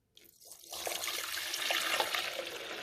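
Water is poured from a container through the wide opening of a Mr. Coffee CG-12 12-cup coffee maker's reservoir, a steady close splashing trickle that builds after a brief quiet start and continues without speech.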